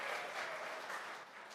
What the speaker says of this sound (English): You don't have to clap after every slide unless you really want to